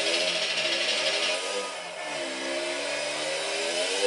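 A bike engine in GTA revs and drones continuously at close range, its pitch wavering up and down through the whole stretch, loud and alone with no talking.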